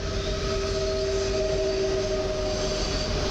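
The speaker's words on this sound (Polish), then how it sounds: "Pociąg lotniskowy, Warszawa lotnisko Chopina Modlin." An airport train on the Warsaw Chopin Airport to Modlin line arrives at Warszawa Zachodnia station. A continuous rumble of wheels and rails fills the platform, with a steady high tonal whine running throughout. No one speaks.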